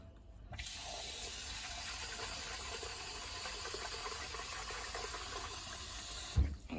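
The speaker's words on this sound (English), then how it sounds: "wash it until the water runs pretty clear" Running water pours steadily into a bowl as raw rice is rinsed for congee, a constant close splash and hiss lasting several seconds before a brief clunk at the end.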